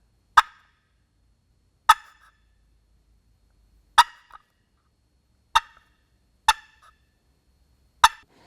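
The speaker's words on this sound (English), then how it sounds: "you're on your way to some real turkey talk on a box call" Six sharp, clucking notes from a paddle struck on a turkey box call, one at a time with irregular pauses between them, each crisp and close, with nothing else in the background.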